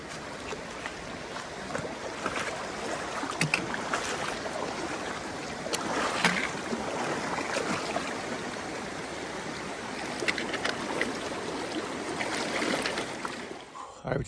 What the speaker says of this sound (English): All right, we made it to Spiller Creek, another water crossing.